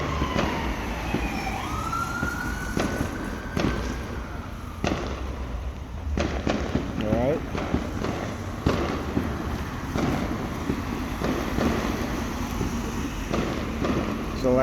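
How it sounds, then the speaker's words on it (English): Fireworks going off at night: scattered sharp bangs and crackles at varying distance over a constant background rumble, with faint siren-like tones and occasional rising whistles. "A lot of the fireworks and all this stuff"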